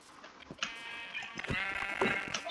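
Sheep bleating in a video game, a few wavering bleats close by and moderately loud over quiet game ambience, with no talk.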